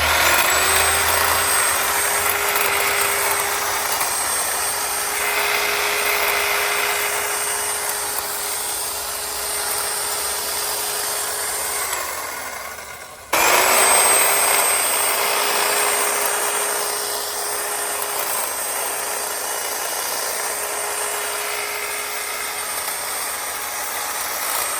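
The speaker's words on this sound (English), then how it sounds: "I'm in another area where I'm going to be trimming the tree shrubs down" A Homelite hedge trimmer trims shrubs outdoors, its small engine buzzing loud and steady, dipping near the middle before revving back up and running on.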